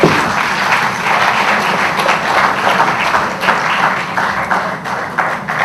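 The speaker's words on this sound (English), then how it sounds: "A round of applause for all the participants." Loud, dense applause from an audience for challenge participants, a continuous wash of many hands clapping with no talk over it.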